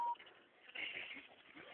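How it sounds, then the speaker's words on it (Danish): A telephone keypad sounds a short dial tone, followed by faint, narrowband, phone-line audio with muffled voices in the background. "Hvorfor du trykker på knapper?"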